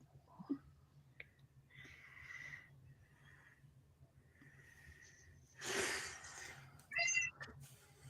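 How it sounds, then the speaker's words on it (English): A cat meows softly a few times among quiet indoor sounds, the calls faint and brief with pauses between them. "Sounds like a sweet kitty cat."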